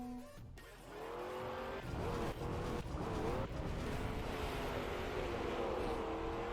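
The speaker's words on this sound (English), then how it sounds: "Desert car on snow surface with reactor" A desert car drives across a snow surface in a racing video game, its engine droning steadily and loud throughout, with tire squeal and skidding noises rising over the continuous motor sound.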